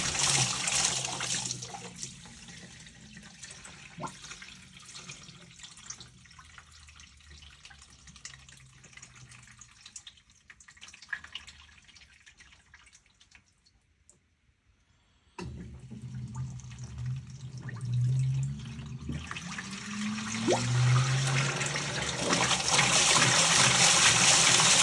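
An LG Turbodrum WTR807 washing machine rinsing a heavy load of whites: water splashes and trickles through the drum, fades almost to silence midway, then returns louder with sloshing and rushing water.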